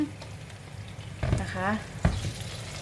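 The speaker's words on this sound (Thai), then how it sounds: "ลุงก็ใส่น้ำลงไปนิดนึง" A vegetarian burger patty topped with cheese fries in a pan as a little water is added, raising a steady close sizzle that swells briefly with a bubbling hiss, while a voice speaks over it.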